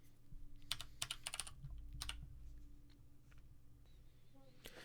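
Quiet typing on a computer keyboard, with scattered clusters of soft key clicks in an irregular rhythm over a low background hum, faint and close.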